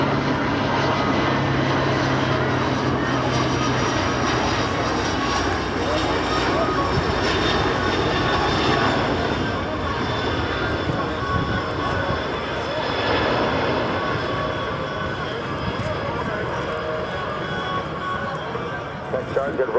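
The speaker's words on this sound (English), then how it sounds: "Here's another pass, beautifully done and expertly executed in formation flying by our pilots today, the C-47 and the big" A C-47 and a big C-17 make a formation pass at a 2009 Randolph AFB airshow, their engines roaring loud and steady throughout while an announcer talks over the public address.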